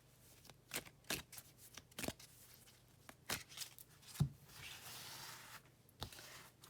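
Oracle cards being shuffled by hand, soft papery riffles and slaps in irregular bursts, close and quiet, with no speech.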